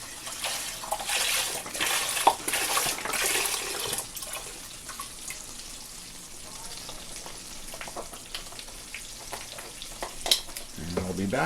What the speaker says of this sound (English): I'm going to bring this to a boil in the back.